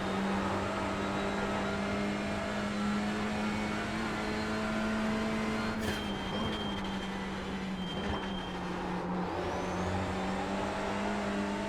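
A TCR touring car engine in iRacing at the Nürburgring drones steadily under throttle, a loud sustained tone that dips and recovers in pitch a couple of times, with no talk.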